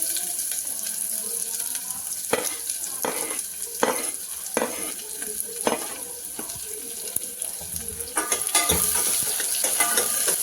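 Chopped curry leaves sizzle steadily in hot oil alongside frying garlic, with the hiss broken by sharp scraping clicks as a spoon stirs the pan.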